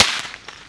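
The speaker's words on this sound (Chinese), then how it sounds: "它会吐蛇出来，会那爆炸哦！" A traditional Taiwanese firecracker bursts in one sharp, loud crack right at the start, then its sizzle fades quickly.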